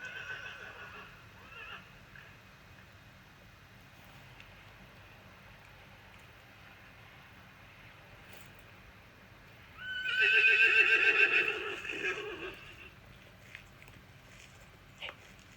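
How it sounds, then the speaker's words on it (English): A horse neighs once in the distance outdoors in Castleton, Vermont, a clear whinny of a couple of seconds rising over quiet countryside ambience. "Horses in real life"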